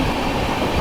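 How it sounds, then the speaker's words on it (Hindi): The Netaji Express, running from Tatanagar to Jammu Tawi, passes close by as a loud, dense rush of rail noise and wheel rumble that fills the brief moment without a break. "जहाँ तक है दोस्तों ये नेताजी एक्सप्रेस हो सकती है, टाटा नगर जम्मू तवी।"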